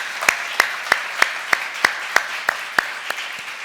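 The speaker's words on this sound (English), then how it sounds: "So I want to give them a big round of applause." Clapping at a university center naming celebration, heard as about ten crisp, evenly spaced claps in a steady rhythm, fairly close and distinct, fading out at the end.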